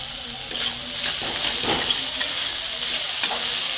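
Okra (bhindi) frying in a pan while being stirred, a steady close sizzle broken by repeated scraping strokes of a spatula against the pan, no talking.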